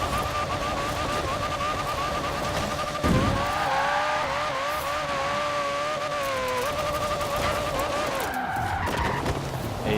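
Cars drift through corners in Forza Horizon 4, tires squealing in long wavering screeches over a steady engine roar, with a sharp burst about a third of the way through and continuous skidding to the end.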